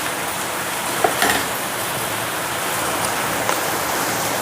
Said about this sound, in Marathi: इथे आमच्याकडे भरपूर पाऊस पडत आहे, मोठ्या प्रमाणात पाऊस पडत आहे।